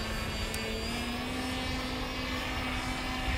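RC camera plane passing overhead, its motor and propeller giving a steady, loud droning whine over wind noise with no break.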